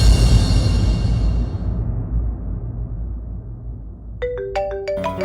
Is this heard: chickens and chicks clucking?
no